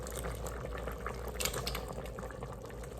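A 10-ounce can of diced tomatoes with green chili poured into a chili pot, a continuous quiet wet glugging and splashing that stays steady throughout.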